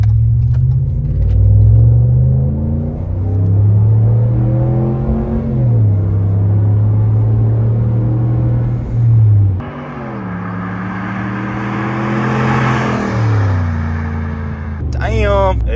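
A Ram TRX truck's engine revs loud and close as it accelerates, the pitch climbing and dropping through several gear changes, with a deep rumble throughout.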